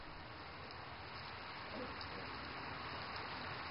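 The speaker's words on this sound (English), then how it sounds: "the water quietly drops onto the earth" Rain drips steadily onto an old stone lane in the water town of Xitang, Zhejiang, making a soft, continuous patter and hiss at low volume with no other distinct sounds.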